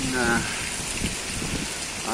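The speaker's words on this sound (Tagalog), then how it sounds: "malakas ang ulan, sinasabayan po ng pagbayo ng malalakas na hangin" Heavy rain with strong, pounding wind during Typhoon Uwan in the early hours, a continuous loud roar filling the whole clip, with a faint tonal sound at the start and end.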